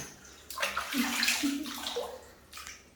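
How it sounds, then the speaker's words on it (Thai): Water splashes and sloshes as a small child's face is washed at a basin or tub, irregular bursts of splashing close by with a voice quietly present. "ล้างหน้าก่อนนะ ล้างหน้าก่อน"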